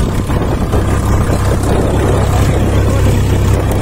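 Loud, steady engine drone of a Massey Ferguson 8055 tractor ploughing with a double-bottom plough, a deep low rumble running continuously without pause.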